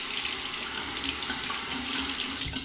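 Tap water runs in a steady, close splash as a Henson Ti22 titanium razor is rinsed under it, a continuous broadband rush with no talking.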